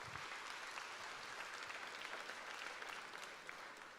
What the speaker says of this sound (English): another massive round of applause to all of you